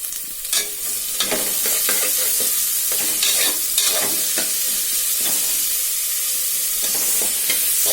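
Plenty of sliced onions sauté in oil for a mutton curry, giving a loud, continuous sizzle broken by repeated scraping strokes of a ladle stirring through the pan.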